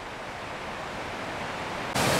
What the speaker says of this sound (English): there's plenty of waterfalls, very noisy